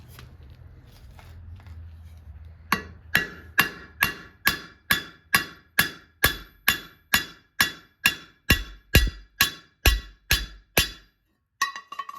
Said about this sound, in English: rivet this together, get the handle straight